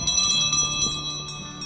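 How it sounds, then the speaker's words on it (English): Bells hang on cows on an alpine hiking trail between Grindelwald and Wengen in Switzerland, giving a short, loud, continuous clanging with ringing metallic overtones close by. "They've actually got bells, cow bells."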